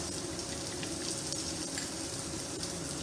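Spice paste sizzles steadily in hot oil as it is added to frying potato and pointed gourd, a close, continuous crackling hiss with no talking.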